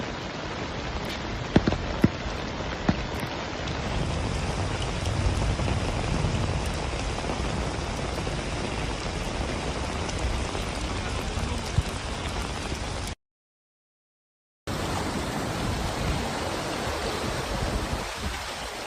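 Heavy, steady downpour of rain in Chiba, Japan, during record-breaking flooding, a dense continuous roar that cuts out briefly near the end, then resumes.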